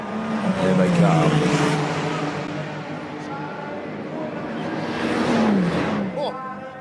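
Ferrari 499P Le Mans Hypercar and 296 GT3 race cars passing at Imola: engines rise and fall as the cars sweep by, with pitch drops, a second car following shortly after, and a commentator talking over them.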